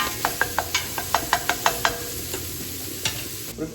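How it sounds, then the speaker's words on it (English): Chopped onion fries in a large saucepan with a constant low sizzle while a spoon scrapes through it in about ten quick, evenly spaced strokes, then a few slower scrapes close by, with no voices. "Give the onion a bit more of a stir there."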